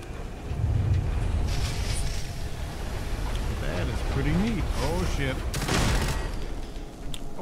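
Gunfire rattles almost without pause through Fallout 4 gameplay at an Enclave settlement, loud and dense with bullets whizzing past, while voices sound in the mix.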